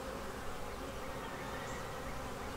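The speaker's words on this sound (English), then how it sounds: "that is a nice frame of bees" Honey bees buzz on a hive frame in a steady, dense drone that fills the whole stretch without pause, close and fairly quiet, with no talking.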